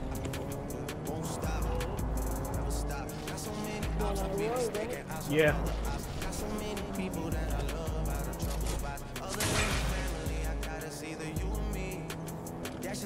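A car driving in Fortnite, a low steady engine hum with swells of revving, running under ongoing conversation between players.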